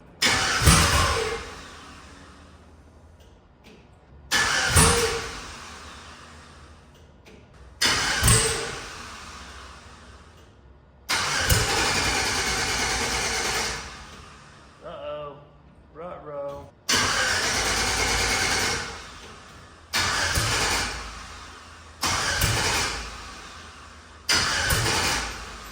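Repeated cranking attempts on a 1957 Chevy two-door hardtop with an LS engine swap, several bursts of starter and engine noise catching and revving briefly, separated by pauses, with someone talking in between.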